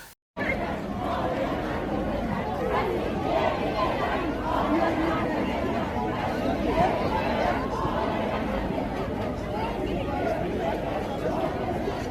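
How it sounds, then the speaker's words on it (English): A crowd of protesters in Iran shouting at militia beating them, a dense, continuous mass of agitated voices and yelling that fills the space at steady loudness after a brief silent start. "you can hear the crowd shouting at them"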